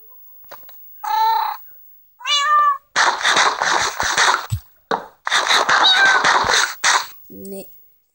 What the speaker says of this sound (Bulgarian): Малко котенце.